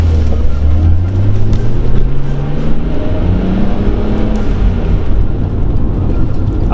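An old BMW car driving along, its engine a steady low drone with a gently rising tone through the gears and constant road rumble, heard from inside the cabin with no talk.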